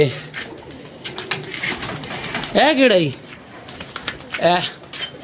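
Pigeons coo in two distinct throaty, rolling calls over a steady noisy background while a person talks nearby.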